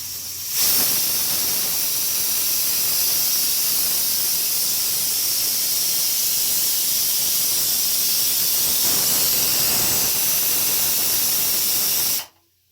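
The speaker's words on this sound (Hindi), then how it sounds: "इसमें उबलना है आलू, सीटी आने वाली है।" A steady, loud hiss of steam runs almost unbroken for about twelve seconds, then cuts off abruptly, like a pressure cooker venting while boiling potatoes.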